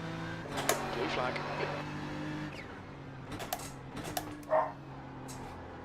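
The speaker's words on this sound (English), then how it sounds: "I can hear Lorenzo's dog." A dog barks a few times in the background, short and fairly faint, under a voice and the steady drone of a car engine during a racing session in the rain at Sebring.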